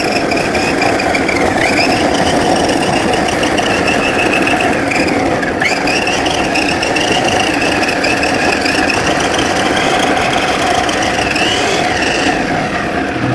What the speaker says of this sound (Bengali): জাস্ট দেখেন পেঁয়াজগুলো দিয়ে দিতেছি এই মেশিনের মাধ্যমে।